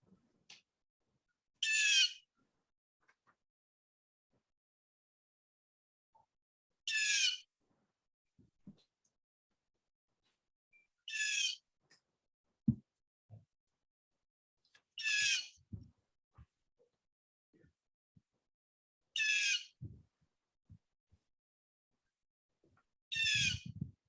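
Bird calling indoors during a county commissioners' meeting, a single sharp high call repeated six times at regular intervals of about four seconds, with quiet room noises and soft thumps between calls.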